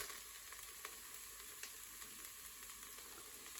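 An egg frying inside a Cosori rice cooker, giving a soft, steady sizzle dotted with small pops and crackles, quiet and close with no speech.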